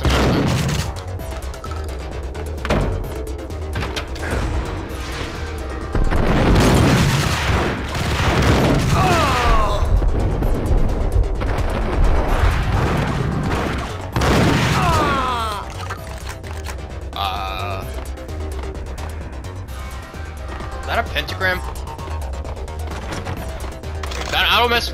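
Shotgun blasts from Max Payne, with several heavy booming shots and crashes scattered through a busy game soundtrack while people keep talking over the action.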